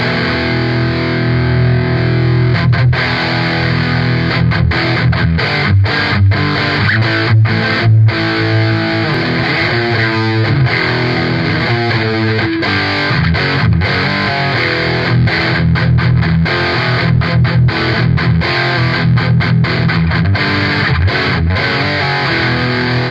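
An electric guitar plays through a Two Notes Genome Britpop amp preset, a loud, steady run of distorted chords and riffs with a slightly noisy edge throughout, and no talking.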